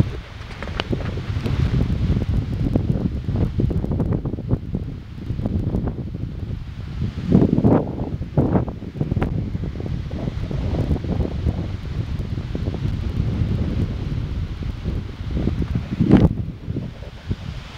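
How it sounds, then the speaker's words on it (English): Strong wind roars steadily into the microphone, buffeting and rumbling with occasional louder gusts, with no voices. "That is a lot of wind."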